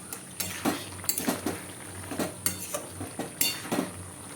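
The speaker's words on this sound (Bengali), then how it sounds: "আমি এটাকে নেড়ে নেড়ে সব কিছু দিয়ে ভালো করে মাখো মাখো করে তৈরি করে নিচ্ছি" A spoon stirs a vegetarian pumpkin-greens curry with lentil dumplings in a metal pan, scraping and clinking in irregular bursts over a faint sizzle, close and without talk.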